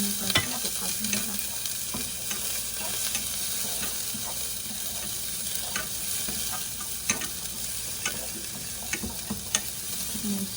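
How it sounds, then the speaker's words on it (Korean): Garlic and scallions stir-frying in hot oil in a pan, a steady close sizzle with scattered pops and occasional spatula scrapes, no talking. "파에서 기름이 나오기 시작하면은 마늘도 넣고 중간 마늘까지 볶아줍니다"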